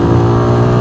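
Engine of a Benelli 180S naked motorcycle holds a loud, steady drone while changing gear during a test ride, with no talk.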